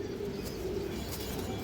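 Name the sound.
Bagha pigeon cooing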